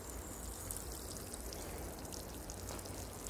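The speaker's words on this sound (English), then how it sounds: "The watering process." Water pours steadily over garden soil as newly planted beans and onions are watered, giving a continuous close splashing patter like rain, even in level from start to finish with no talking.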